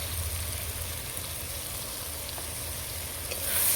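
Shredded cabbage with a spoonful of gram flour fries in a pan, giving a close, steady sizzle with soft stirring scrapes and a slight swell in loudness near the end.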